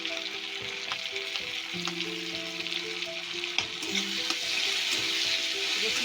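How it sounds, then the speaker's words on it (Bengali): Chopped garlic fries in hot oil in a pan, a steady close sizzle with occasional stirring clinks, continuous and unbroken, with no voices. "রসুনটা একটু ভাজা ভাজা হয়ে গেছে"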